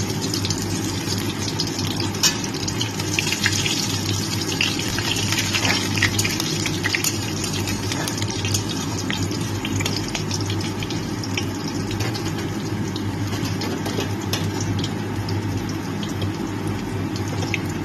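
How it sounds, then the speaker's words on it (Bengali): Crushed garlic sizzling in hot mustard oil with radhuni and black cumin seeds in a pan, a steady close hiss of frying with bubbling and crackle running continuously throughout. "থেতে নেওয়া রসুনগুলোকে দিয়ে দিচ্ছি"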